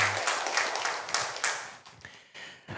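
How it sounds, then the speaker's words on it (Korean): A church congregation gives a short round of applause, a dense clatter of hand claps that swells and then thins out, heard at moderate volume. "하나님께 영광의 박수 올려드리겠습니다."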